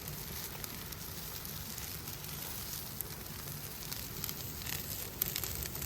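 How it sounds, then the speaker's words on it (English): A campfire at a campsite near Yosemite or Death Valley crackles steadily with a soft, continuous hiss and scattered faint pops. "I swear there's something therapeutic about watching the campfire."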